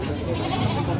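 Goats at the Selo livestock market in Grobogan bleat continuously in an overlapping crowd, loud and close amid the busy market hubbub.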